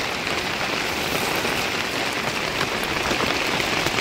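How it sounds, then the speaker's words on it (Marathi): Steady rain falls at a hilltop temple site, a dense unbroken hiss of drops hitting surfaces, loud and even throughout. "पाऊस चालू आहे मित्रांनो."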